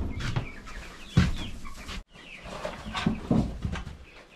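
Homestead chickens cluck and murmur close by in a busy, overlapping flurry of short calls, with a brief gap midway before the clucking resumes.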